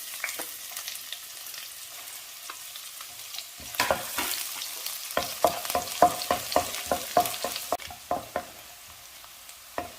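Finely chopped onion added to garlic already browned in a pan, a rising sizzle followed by a run of rhythmic stirring scrapes and taps over steady frying, close and clear, without any talking.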